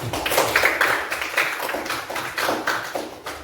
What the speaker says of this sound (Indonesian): Beri aplaus dulu untuk kelompok 3.